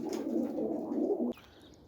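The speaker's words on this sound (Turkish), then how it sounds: "Evet bu kuşlar Metin abimin hediye ettiği kuşları" Tumbler pigeons kept as play birds coo in a low, throaty, continuous warble at close range. The cooing stops abruptly near the end and leaves faint background noise, with no voices.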